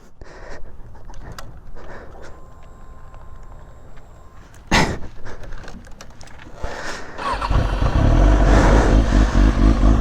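A motorcycle engine starts amid some clatter, then runs with a steady, loud rumble that builds and holds through the later part, close by and with no talking.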